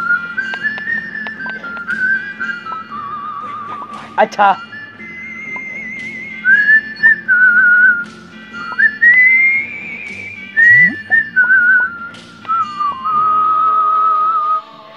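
A man whistles a wandering melody at close range while playing a video game, with sustained notes and short gaps broken by a brief shout and bursts of his own talking.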